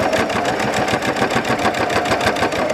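Close, loud sewing machine stitching quilt binding: a rapid, even mechanical rattle of needle strokes running continuously without pause.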